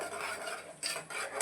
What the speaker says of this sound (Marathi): मीडियम टू स्लो गॅसवरच आपल्याला हा मसाला छान असा तेल सुटेपर्यंत परतून घ्यायचा आहे